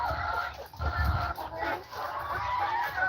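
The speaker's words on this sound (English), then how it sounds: "Yeah, the chicken." Chickens cluck in a steady, fairly close run on a small farm, with low bursts of other noise and no clear talk.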